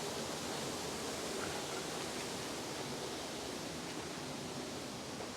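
Old river water rushing steadily beside a fish farm in Suleja, a loud, continuous broadband roar like a nearby weir or small waterfall, unbroken and with no voices over it.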